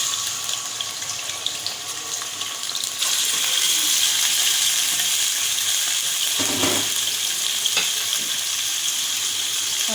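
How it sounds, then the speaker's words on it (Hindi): Chicken pieces frying in hot oil for chicken karahi, a steady loud sizzling hiss that intensifies partway through and continues without pause. "अभी ऑयल गर्म हो गया है, इसमें मैं चिकन डालूँगी।"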